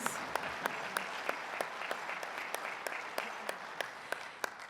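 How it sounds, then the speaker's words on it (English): A round of applause from a conference audience before a dance performance, dense steady clapping with distinct sharp claps close by throughout, holding at an even level. "Let's give them a round of applause."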